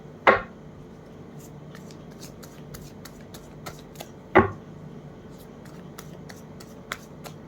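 Tarot cards being shuffled by hand, two distinct riffling bursts a few seconds apart with soft taps and card flicks between, close and fairly quiet, no speech over it.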